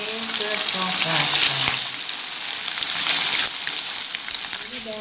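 Tempe frying in hot oil gives a dense, steady crackling sizzle that runs the whole time, with a voice briefly audible at the start and end.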